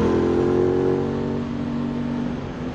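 An Aprilia Tuono 660 motorcycle engine holds a steady, loud droning tone while riding, tapering slightly in pitch and volume partway through, with no talking.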